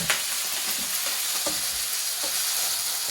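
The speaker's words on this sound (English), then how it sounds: "When your pan is really hot, it's going to make this sound, and that's a good sound." Loud, steady sizzling from paella cooking in a very hot pan, with crackles and occasional stirring scrapes throughout; no voices.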